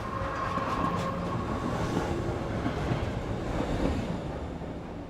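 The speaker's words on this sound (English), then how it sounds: "A train full of passengers is travelling through the valleys." A passenger train travels on rails through valleys, a continuous low rumble of wheels and carriages with faint rhythmic rail clatter, steady and moderately close with no talk.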